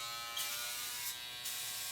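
An Andis GTX XO hair clipper runs with a steady, close electric buzz and a bright high whine, with the motor tone briefly swelling a couple of times.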